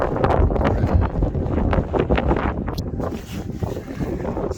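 Strong gusting wind buffets the microphone on an open Scottish mountain summit near a small cairn, a loud, continuous low roar with rustling bursts and no voices.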